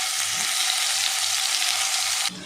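Marinated prawns hit hot coconut oil with fennel seeds, setting off a loud, steady, close sizzle that runs unbroken before cutting off abruptly at the end.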